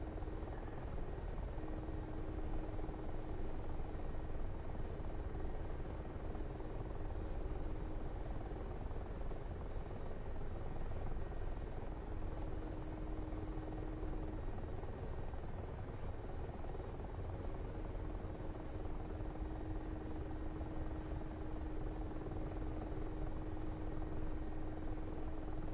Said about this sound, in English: as we watch some more of this helicopter mission